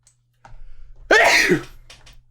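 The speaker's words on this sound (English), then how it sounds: "Sneeze." A single loud, close sneeze, preceded by a short sharp inhale.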